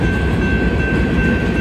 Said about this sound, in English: Looks like a fairly long train.